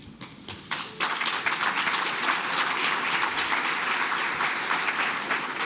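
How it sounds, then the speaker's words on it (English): Audience applause at a staff awards ceremony, dense steady clapping from a sizeable crowd that swells in after a few scattered claps and holds strong throughout. "I don't have here that you were supposed to clap, but I welcome it."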